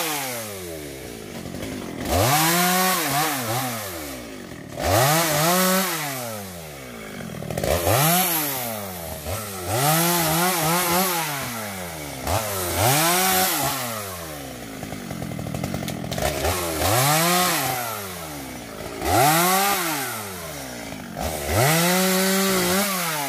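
A chainsaw revs and bogs repeatedly, cutting through longan and pomelo trees in rising and falling bursts, fairly close, with no talking.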